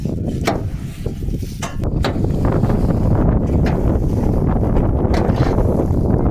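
Strong wind buffeting the microphone in a steady low roar on a farm during an unseasonal storm, with a few faint knocks and rustles.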